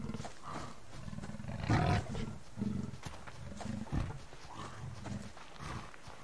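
A bear roars in the survival video game Subsistence, a deep growling roar swelling loudest partway through amid thuds and rumbling game sounds.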